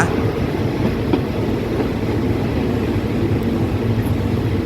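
Express train 135 pulling into Muak Lek station, a steady loud rolling rumble with faint rail clatter throughout, no voices.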